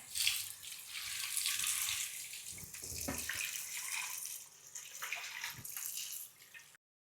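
Broken wheat being washed in water for payasam gives a quiet splashing and sloshing, like a sink being filled, with soft gurgles that rise and fall before stopping abruptly.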